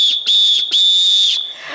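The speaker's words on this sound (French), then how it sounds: "Ah, mais tu as sifflé." A person whistles a few sharp, high notes: two short chirps, then a longer sustained tone that breaks off, loud and close with no other sound.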